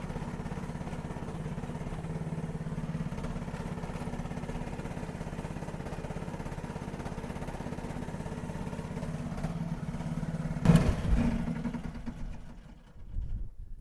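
An inexpensive SDLE18P mini excavator engine running, a steady, close, rough idling drone that holds evenly, then swells near the end and trails off, with no talking over it.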